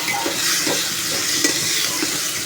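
Potatoes sauté in a hot pan with a steady, close sizzle, while a utensil stirs them in regular strokes that scrape and shuffle about every half second.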